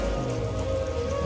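Steady monsoon rain patters on a surface in India, a dense even hiss with faint tonal hum underneath, brief and unbroken.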